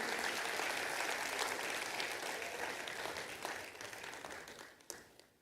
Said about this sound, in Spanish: Señores, dense un aplauso.